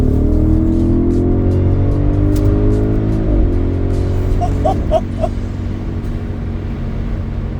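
Audi SQ7 pulling hard in third gear under full throttle, its engine note rising steadily and loudly up close, then easing off into road noise, with a brief dog-like yelp partway through.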